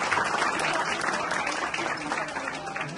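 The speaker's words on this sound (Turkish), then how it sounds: "Alkışlar sizler için efendim." A large crowd at a Republic Day gathering claps in steady, even applause that carries on without pause at a fairly constant level.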